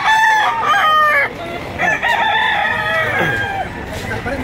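Several roosters crow loudly in overlapping calls, one after another, with a busy background of clucking and noise at a livestock market.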